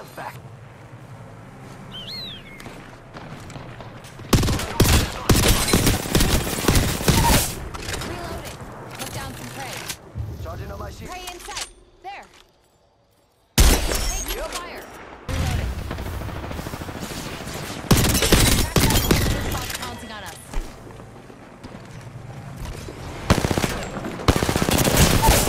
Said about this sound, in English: Give you a little bit of covering fire, but I can't provide much.